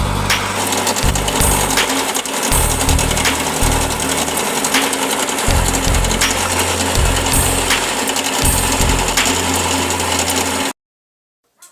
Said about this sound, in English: take it to the engine where we are going to be grinding our millet, our potatoes, and the ginger